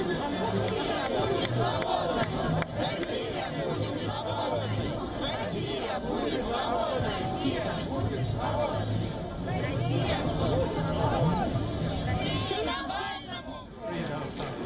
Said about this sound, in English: In Paris, protests were held in support of Alexei Navalny.